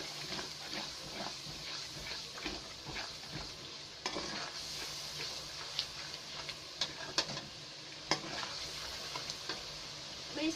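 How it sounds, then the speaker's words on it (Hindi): Yogurt and chicken masala fry softly in a pan, a quiet steady sizzle broken by sharp ticks and scrapes of a spoon stirring against the metal. "हाफ कप के करीब मैं दही ऐड कर रही हूँ। इसको अच्छी तरह से फ्राई कर दें।"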